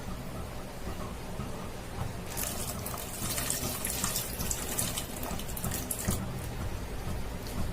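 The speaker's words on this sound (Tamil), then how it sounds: "புளி தண்ணி கரைச்சி விட்டுக்கலாம்." Tamarind water poured into a cooking pot of chickpea theeyal in a home kitchen, a sudden splashing rush of liquid that starts midway and keeps running before tapering, heard alone.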